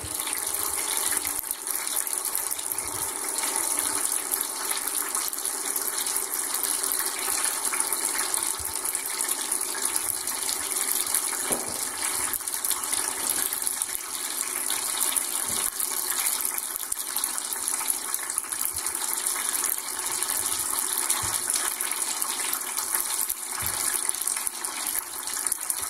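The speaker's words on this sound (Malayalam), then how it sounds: "ഈ അടപ്പ് തുറക്കുന്നതനുസരിച്ച് വെള്ളം താഴേക്ക് വീഴുന്നു." Water streams steadily from holes in a plastic bottle as its cap is loosened, a continuous close hissing gush that holds level for the whole stretch with no talk.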